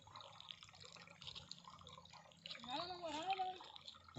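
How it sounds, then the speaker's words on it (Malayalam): Water runs steadily out of a freshly cut bamboo stalk, a close, dripping and trickling flow heard throughout, with a person talking over it toward the end. "നല്ല വെള്ളം വരുന്നു, നല്ല ഉറവാ, ഉറവ് പൊട്ടുന്ന പോലെ."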